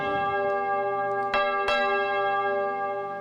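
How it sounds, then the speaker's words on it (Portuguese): A church bell rung by a sacristan rings out twice, two clear metallic strikes about a third of a second apart over a sustained tonal hum, with no speech. "Sacristão, eu vou falando, você toca o sino."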